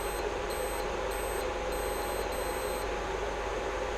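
A benchtop electronic load sounds its over-temperature alarm as its MOSFET overheats, a high-pitched electronic beep repeating in short uneven pulses over a steady background hiss, with no talking.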